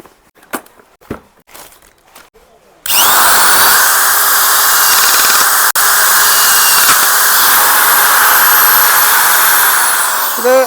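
A 400 W electric rivet gun starts after a few scattered knocks and handling noises, then runs as a loud, steady, close whine for several seconds, broken once by a short sharp click.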